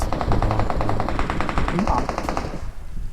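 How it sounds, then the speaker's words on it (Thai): Rapid automatic gunfire in the video game PUBG, a loud sustained burst of fast regular shots that fades into quieter ambience near the end. "ใครยิงมาวะ"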